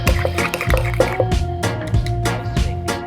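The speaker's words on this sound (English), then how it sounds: "Stir that together." A mayonnaise sauce with grated Parmigiano Reggiano, black pepper, garlic powder, lemon and salt being stirred in a bowl, giving close, wet, squelching clicks and drips in an irregular rhythm, with no talking.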